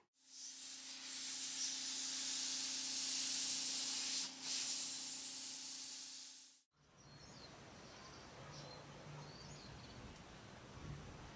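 An air compressor nozzle blasts dust out of a seam in a handmade wooden box in a woodworking shop. A loud, close, steady hiss lasts about six seconds with one brief dip, then cuts off to quiet room tone.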